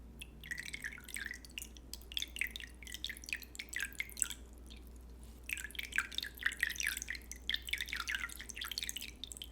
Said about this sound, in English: we are just going to rinse it one more time